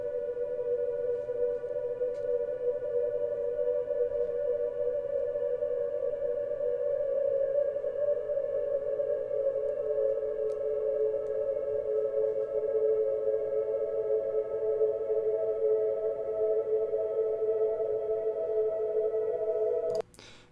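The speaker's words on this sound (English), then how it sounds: "So it's going to be twice as long and an octave lower than the original sample. And then it just stretches it" A sample resampled in FL Studio to twice its length, an octave lower, with echo-grain granular stretching plays as a steady, sustained droning tone with a slight buzz, unbroken for about twenty seconds before cutting off abruptly.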